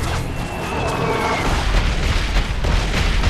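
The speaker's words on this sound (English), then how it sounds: "Oh shoot, they threw a grenade." A grenade goes off in Call of Duty: Modern Warfare 3 during a campaign firefight, a dense rumbling boom that blends into continuous battle noise and lingers for a few seconds.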